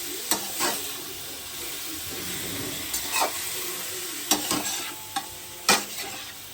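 Ingredients dry-fry in a pan to a low, steady sizzle and hiss, with occasional scraping knocks of a stirring spoon against the metal.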